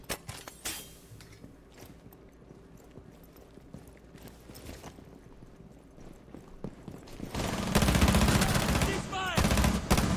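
Gunfire in Rainbow Six Siege, scattered shots and clicks through the first part, then a dense, loud burst of rapid fire near the end, with voices talking faintly in places.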